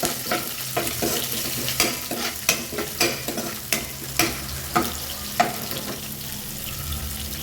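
Ridge gourd sizzling in hot oil with onion and curry leaves, with a steady fry hiss broken by repeated scraping stirs of a spoon against the pan, close and fairly loud, no voices.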